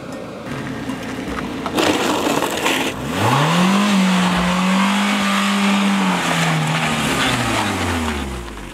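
A car travels a rough, badly maintained road toward a village in Adamawa State. Its engine drones steadily and rises and falls in pitch as it pulls along, with the broad rumble of the rough surface underneath throughout.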